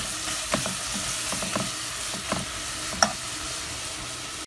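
Grated carrots sauté in oil for chicken soup with a steady close sizzle, broken by a few stirring scrapes and clicks spaced through it, no voices.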